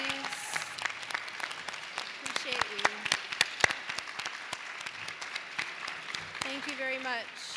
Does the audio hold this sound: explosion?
no